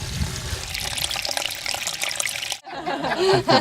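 Water splashes and gurgles from a collection point into a trough at a stream enhancement site, a close, uneven trickling flow that briefly drops out, then returns stronger.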